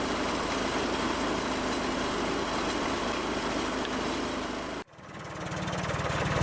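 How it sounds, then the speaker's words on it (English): A Case International 485 tractor with a 3-cylinder Perkins diesel engine runs at a sawmill, giving a steady, loud mechanical drone that cuts off abruptly and then returns as a lower rumble. "I love the sound of that 3-cylinder Perkins diesel."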